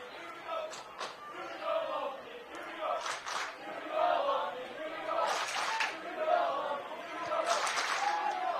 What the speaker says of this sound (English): The Lone Peak faithful trying to cheer on their team.